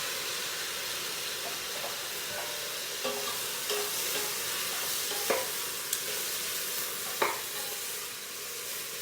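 Chopped tomatoes, about four medium ones, sizzle in a hot pan with a constant hissing fry, broken by occasional light clinks and scrapes as they are stirred.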